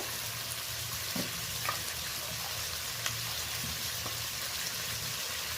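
Crab frying in a small amount of oil in a pan, a steady soft sizzle with occasional faint stirring taps, close and even, with no voices.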